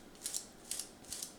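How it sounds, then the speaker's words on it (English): Scissors snip hair wound around the brushes of a Roomba robot vacuum, giving three quick double-snip pairs spaced evenly, close and crisp, with no talking. "I have had to get the scissors out"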